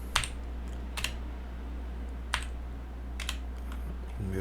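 Sparse computer keyboard keystrokes, about five isolated taps spread across a few seconds, close and fairly quiet over a steady low electrical hum, with no talking.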